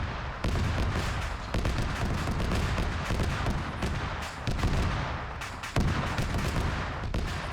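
Ammunition keeps cooking off and bursting in a video game, a dense stream of crackling explosive pops with sharper bangs rising out of it, loud and continuous for several seconds.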